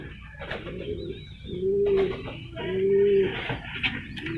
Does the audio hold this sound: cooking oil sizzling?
no